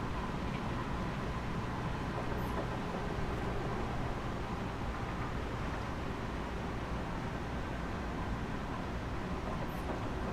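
Train slowing toward a station in the Train Sim World 4 video game, a steady loud broadband rumble and hiss of rolling and braking running throughout without letup.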